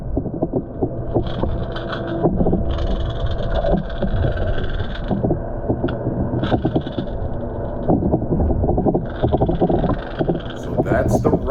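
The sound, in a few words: Bill Lewis Rattle Trap lure rattling underwater past camera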